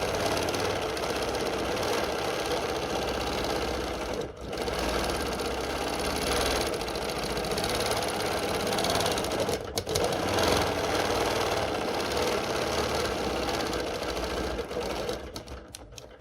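Sewing machine stitching quilting lines on a peppermint pinwheel and ribbon candy quilt, a steady fast mechanical whir and needle patter running almost nonstop at close range, with a brief pause partway through.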